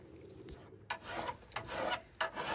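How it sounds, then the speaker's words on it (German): A steel hand file sharpening both sides of a lawn mower blade clamped with locking pliers, rasping in several separate close strokes with short pauses between them, no talking. "Mit einer ganz normalen Stahlfeile kann man eigentlich die zwei Seiten des Messers ganz gut bearbeiten."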